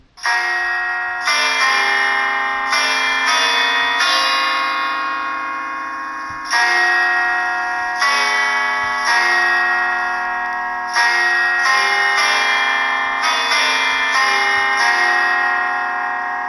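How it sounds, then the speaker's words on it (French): A synthesized bourdon bell made in GarageBand tolls repeatedly, each strike ringing out and slowly decaying before the next, with deep resonant tones and shimmering overtones. "Donc ça c'est des bourdons."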